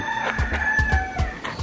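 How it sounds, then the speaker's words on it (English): A rooster crows loudly and close by on Mo'orea, French Polynesia, its call sustained over a rhythmic series of low thumps. "that's the sound of the islands, the rooster song."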